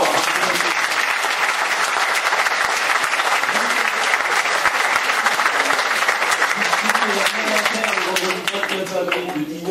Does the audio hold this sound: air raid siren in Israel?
no